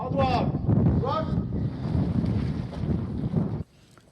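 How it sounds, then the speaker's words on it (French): Wind blowing at an outdoor military training centre, a steady rushing buffet on the microphone with voices talking over it before it drops away. "Jusqu'à présent, on entend le vent qui souffle."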